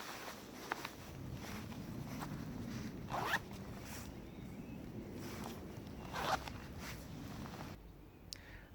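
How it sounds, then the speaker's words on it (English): Pit zips on a waterproof bushcraft jacket are undone outdoors, with two sharp, close zipper pulls standing out against a soft background of rustling and movement. "rather than undoing the zip on the front, you can simply undo the pit zips"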